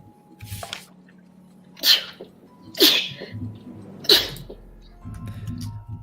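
Three sharp sneezes in a row, each a loud burst a second apart, with a quieter sniff at the start and low rumbling noise between.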